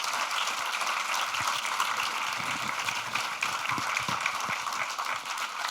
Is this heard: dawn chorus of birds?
no